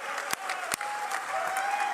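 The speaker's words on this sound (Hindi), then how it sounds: "जोरदार तालियों से आपका स्वागत करें।" An audience at a birth centenary program applauds to welcome guests, a sustained, fairly close patter of many hands, with a couple of sharp louder claps standing out near the start.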